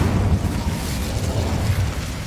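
A fire spell blasts out in Hogwarts Legacy, a sustained roaring burst of flame with a heavy low rumble that stays loud for about two seconds.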